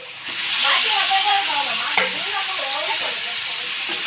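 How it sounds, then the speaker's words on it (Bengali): Meat with onions sizzles in oil and spice masala as it is stirred in a pan, a steady close frying hiss with soft scraping, while a voice murmurs faintly underneath. "মাংসটা কষানো হোক"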